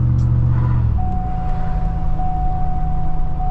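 A car engine drones loudly from inside the cabin, with a low rumble that shifts in pitch and a steady whine as it accelerates to overtake a Range Rover on the road.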